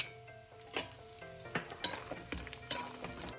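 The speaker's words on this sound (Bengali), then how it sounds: "প্রথমে বড়িগুলোকে ভেজে তুলে নিচ্ছি।" Homemade lentil badi fry in oil in a kitchen pan, a soft sizzle broken by light clinks and scrapes of a utensil against metal, quiet and close, without talk.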